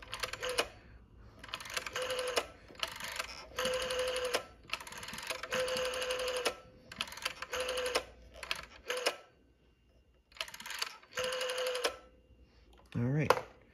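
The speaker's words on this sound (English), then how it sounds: "And then we'll dial a few numbers." Dialing on a 1967 LM Ericsson Dialog telephone: a series of rotary dial runs, each a burst of rapid clicking a second or so long, separated by short pauses, with a faint hum beneath.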